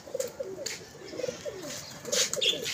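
Pigeons coo in soft, throaty bursts, several low rolling calls spread across a few seconds, close by, with a brief flutter or rustle of wings and light background noise.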